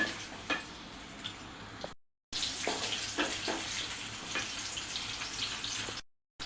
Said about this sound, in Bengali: পাতিলে পরিমাণ মতো তেলও দিয়ে দিচ্ছি। এরপর বড় সাইজের একটা পেঁয়াজ দিয়ে দিলাম।